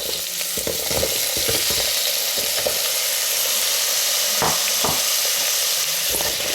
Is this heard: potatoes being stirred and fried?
yes